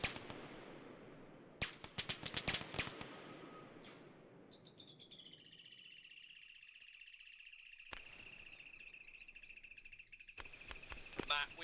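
Gunfire in the tactical shooter European Tactical Realism crackles in faint, distant bursts of rapid shots, with a quiet gap between volleys and a thin high tone hanging in the background.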